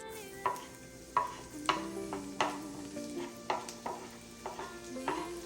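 Garlic frying in unsalted butter in a pan on a medium-high stove, with a soft sizzle under frequent close spoon scrapes and taps against the pan, no talking.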